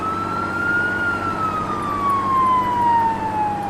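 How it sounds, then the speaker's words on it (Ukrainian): A fire engine siren wails in a single long, slowly falling tone over a low engine drone, moderately loud and steady. "Точно, вімкнемо сирену"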